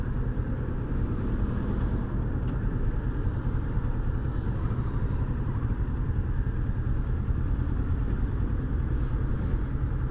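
Steady, loud engine and road roar of a car in traffic close beside a rider on a 2018 Kawasaki Versys 650 ABS Tourer motorcycle, a continuous drone with no pauses and no voices.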